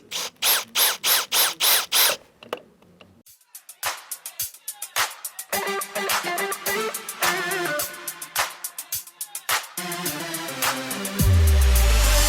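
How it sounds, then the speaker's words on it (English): A battery drill set to speed 1 drives screws while wiring deck lighting, heard as a series of short close whirring bursts with ratcheting clicks, then steadier running and a louder sustained whir at the end. "You'll notice I'm using the speed 1 on my battery drill."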